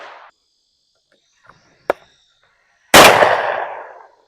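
Single loud shotgun blast at a sporting clays range station where a rabbit target is thrown, with a sharp onset and a long decaying roar, preceded by a faint snap and small outdoor sounds.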